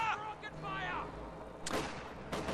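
120mm mortar fire from Soviet forces in the video game Company of Heroes, with two sharp broadband blasts late in the clip under an ongoing voice and steady battle noise.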